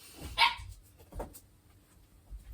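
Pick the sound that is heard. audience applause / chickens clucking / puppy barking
puppy barking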